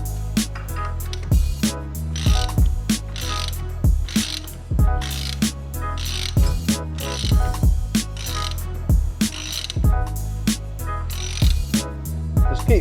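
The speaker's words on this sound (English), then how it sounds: "get our 19mm ratchet and socket and just crank on this thing to pull the stud into the hub" A 19mm ratchet and socket crank a wheel stud into a hub, producing close, loud bursts of ratcheting clicks repeated in a steady rhythm about once a second.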